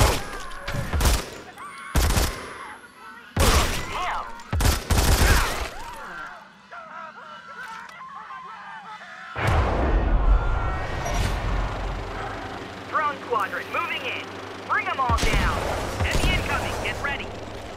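Gunfire in the sniper shooter Sniper Fury, with loud sharp shots in a quick cluster at the start, then heavier bursts and rumbling game action later, under intermittent voices.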